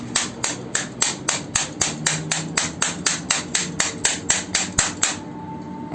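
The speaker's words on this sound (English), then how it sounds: "I'm hitting it with a stapler" A stapler strikes a nano-coated phone screen protector in a fast, even series of about twenty sharp knocks, close and loud, stopping abruptly near the end.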